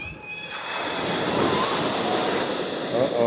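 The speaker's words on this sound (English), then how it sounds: "Wow, look at the waves just" Rough ocean surf at Eagle Beach in October roars steadily and loudly, with waves washing up the sand and wind buffeting the microphone throughout.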